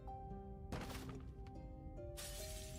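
A coffee cup shatters in the video game Punishing Gray Raven: one sharp breaking crash near the start, then a second bright burst later, over steady game music.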